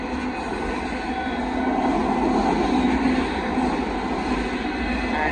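Northbound KCSM auto intermodal freight train passing at Dittmar Road in Austin, Texas: a loud, steady rumble and roar of rolling cars with grinding wheel noise, close by and continuous throughout.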